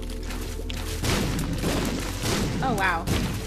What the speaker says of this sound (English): You guys are exploding everything for me.